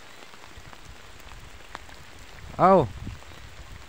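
Rain falls over rice-farm countryside as a soft, steady wash, broken near the end by a brief exclamation from a person's voice.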